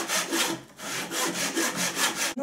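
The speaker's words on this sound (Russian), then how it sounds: "Вы просто держите, опираетесь вот сюда и пилите." A hand saw cuts wood held in a miter box with steady back-and-forth strokes, a loud rasping rhythm of about two strokes per second close by, ending in a sharp knock.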